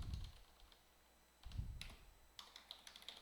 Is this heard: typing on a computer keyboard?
yes